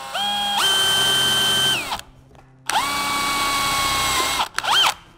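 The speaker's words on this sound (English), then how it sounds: "Fairly easy to drill through this aluminum." A power drill whines loudly as it bores through an aluminum shelf bracket over a wood stud, two long sustained runs rising in pitch as the motor spins up, separated by a brief pause, then a short final burst.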